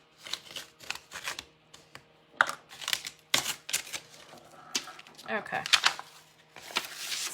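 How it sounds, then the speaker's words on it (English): A razor blade cuts and scrapes through a floral transfer sheet in quick dry crackling strokes and rustles of film, close and continuous, with a brief spoken word at the end. "I'm going to try to cut it with my razor blade this time."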